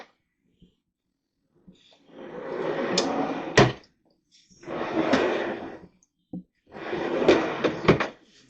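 Several drawers in a workshop storage unit slide open and shut in three long rumbling strokes, each ending in a sharp knock, close and loud with quiet gaps between.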